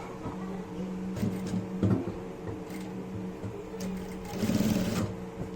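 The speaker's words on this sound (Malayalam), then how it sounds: "ഓപ്പൺ ചെയ്തിട്ട് സിബ് പൂട്ടി വെച്ചിട്ട് തന്നെ നമുക്ക് സ്റ്റിച്ച് ചെയ്യാം." Domestic sewing machine stitching a zipper onto fabric cut from an old shirt, a steady close mechanical whirr running throughout with brief louder bursts as the stitching speeds up.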